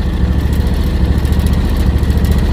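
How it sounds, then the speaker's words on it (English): A hot lawn tractor engine labors roughly after climbing slopes while mowing. Its steady, loud, close-up rumble carries a faint irregular throb throughout. "my tractor's running rough because she's running hot."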